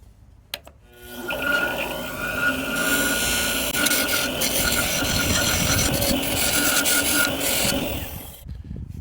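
Gouge cutting a wooden bud vase turned from firewood on a lathe: a loud, close, continuous rasping scrape that starts after a brief quiet and stops abruptly near the end.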